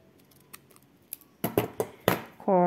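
Scissors snip through ribbon for a child's hair bow, a string of crisp close cuts that grow louder and quicken into a rapid cluster, ending as a voice starts to speak.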